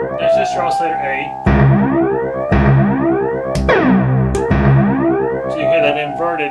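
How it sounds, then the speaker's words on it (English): Multimoog synthesizer oscillator A sounding loud and alone, a buzzy sustained tone repeatedly swept by a filter, with sharp restarts and pitch glides and a resonant, effected, slightly distorted character. "That's just your oscillator A."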